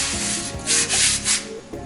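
A paper towel rubs over a cast iron skillet, giving close, coarse scraping and wiping strokes in a couple of short, rising swells.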